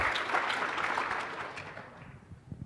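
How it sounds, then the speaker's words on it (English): An audience at a tech conference talk gives a round of applause, a broad wash of clapping that tapers off over a couple of seconds, heard without talking. "Give yourselves a round of applause."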